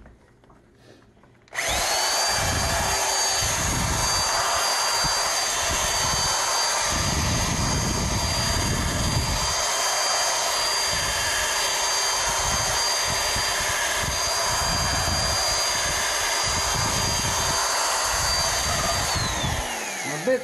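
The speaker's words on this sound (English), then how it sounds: "he's going to sand that down. It's more of a buffer than a sander." Buffer sanding down rusted cast iron, a steady loud high-pitched whine starting abruptly and holding for nearly twenty seconds with low rhythmic grinding pulses beneath as it is pushed against the metal, ending with a falling pitch.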